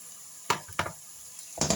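Diced potatoes and carrots being stirred in a hot pan with oil, a few sharp scraping clatters from the spoon over a low sizzle, close by with no talking.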